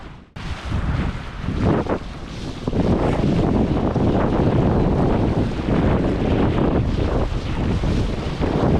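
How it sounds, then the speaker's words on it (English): Strong, steady wind buffets the microphone while windsurfing on Pungo Creek near Belhaven, North Carolina, a loud continuous roar with gusty swells and faint water splashing underneath, no talking. "Ooh, got some wind."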